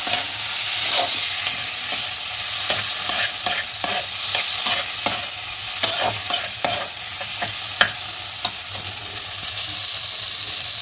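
Boiled potatoes are stirred and fried in a pan for a vada pav filling. Continuous soft sizzling runs under repeated scraping strokes of a spoon against the pan, close and steady, with no voices.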